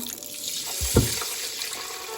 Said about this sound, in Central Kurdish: ئاو ئەکەینە ناو برنجەکەەوە